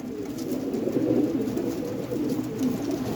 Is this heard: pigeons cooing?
yes